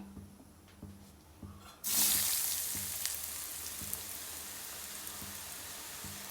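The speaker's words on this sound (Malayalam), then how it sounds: "ഇനി തയ്യാറാക്കി വെച്ചിരിക്കുന്ന കിഴങ്ങ് നമുക്ക് ഈ എണ്ണയ്ക്കകത്തോട്ട് ഇനി ഇടാം" Cut potatoes for French fries drop into hot oil after a quiet start, setting off a sudden loud sizzle that settles into a steady, close crackling fry.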